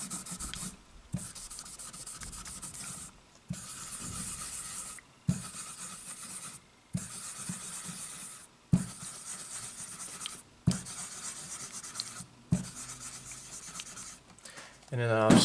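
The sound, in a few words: rubbing the finish of a 1970s Greco Les Paul guitar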